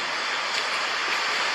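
Steady rushing of moving water, like a nearby stream or surf, fills the whole stretch as a continuous broadband wash with no breaks.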